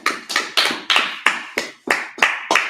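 Rhythmic clapping from a congregation at a Sabbath service: about nine sharp, evenly spaced claps, close and fairly loud, with no voices over them.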